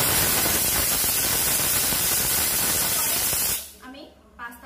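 Loud, steady steam hiss from a pressure cooker cooking fish curry, filling the space for over three seconds before cutting off abruptly, leaving quiet kitchen sounds.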